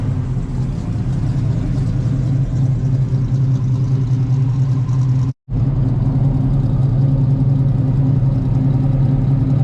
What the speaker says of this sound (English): Wait just a little bit longer for it to come off high idle.